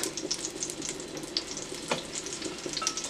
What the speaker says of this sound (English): And now I'm going to add my pork chops.